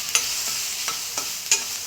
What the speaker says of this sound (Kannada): ಸ್ವಲ್ಪ ಉಳ್ಳಾಗಡ್ಡಿ, ಟೊಮ್ಯಾಟೊ, ಹಸಿಮೆಣ್ಸಿನ್ಕಾಯಿ ಪೇಸ್ಟು ಮತ್ತು ಕೊತ್ತಂಬರಿ ಎಲ್ಲ ಹಾಕಿ ಫ್ರೈ ಮಾಡ್ಕೋಬೇಕು